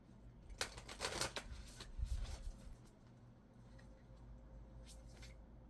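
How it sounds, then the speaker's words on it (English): Cards from a Moonology oracle deck being shuffled, quick riffling bursts near the start and middle, then quieter handling in a hushed room, faint and close. "let me get some cards from the Moonology deck"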